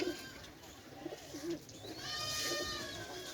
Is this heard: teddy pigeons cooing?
yes